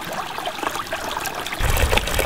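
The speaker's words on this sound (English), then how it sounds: "I can already see a big difference in the amount of water flowing out of that tiny hole" Water trickles from a tiny hole in a pump during a snifter valve test, a steady broadband splashing hiss that grows louder and fuller in the last second, with no one talking.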